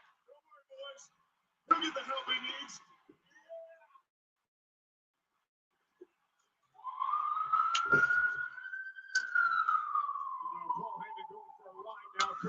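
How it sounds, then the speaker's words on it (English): An ambulance siren wails with a long rising and falling tone during a WWE Raw wrestling broadcast, heard after scattered bursts of noise and brief quiet. "LA Knight driving the ambulance"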